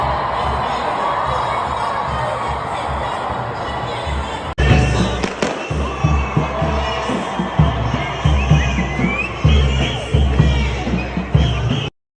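Fireworks go off in a crowded central London street near the Israeli embassy, quiet crowd murmur first, then a sudden loud burst followed by repeated close pops and bangs over shouting and babble.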